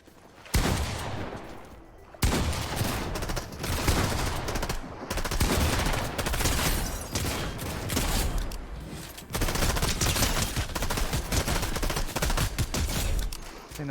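Dense Fortnite gunfire in a Zero Build fight: rapid overlapping shots and bursts rattle almost nonstop, loud and close, with only brief gaps between volleys.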